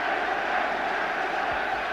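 A football stadium crowd at the 1966 World Cup final between England and West Germany makes a steady, distant roar of many voices that holds at an even level throughout.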